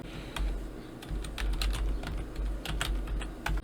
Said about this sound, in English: Type in this actual error from the error message.